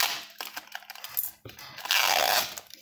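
Coins clink and rattle in quick, light bursts as they are handled during an unboxing, close up, with crinkling packaging between the metallic taps.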